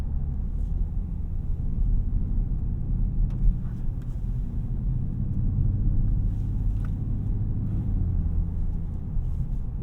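A 2023 Dodge Charger SRT Hellcat Jailbreak wide body with a ZF 8-speed automatic cruises along, heard from inside as a steady low engine and road rumble with faint ticks and no talk.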